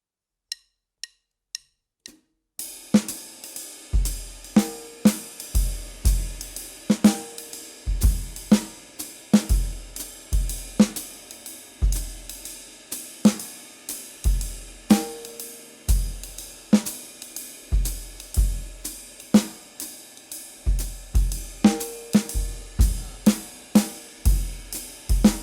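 Jazz drums trade off every two beats in short bursts between different drums, sharp strikes with low booming tones alternating in a steady rhythm, after a few quiet clicks.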